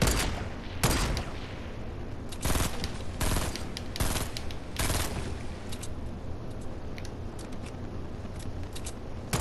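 Automatic gunfire in Fortnite rattles in repeated loud bursts, several dense volleys separated by short pauses, with lighter clicking shots scattered between them and no talk.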